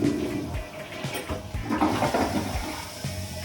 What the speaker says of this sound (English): Good flush, no gurgle.